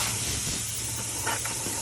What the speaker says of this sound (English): I'm just going to spray this off with some power duster.